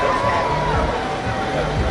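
A school crowd at an inter-house athletics meet roars in a dense, steady wall of cheering and chatter that fills the whole stretch without a break.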